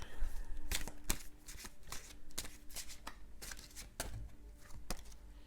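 Tarot cards are shuffled and drawn close to the microphone, with crisp flicks and snaps in an irregular rhythm and a soft voice faintly in the background.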